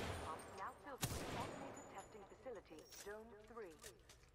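Weapon tap-firing in Titanfall 2, a few sharp shots with one loud crack near the start, heard under steady talking and game ambience.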